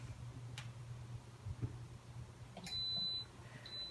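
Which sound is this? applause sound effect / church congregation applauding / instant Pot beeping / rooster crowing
instant Pot beeping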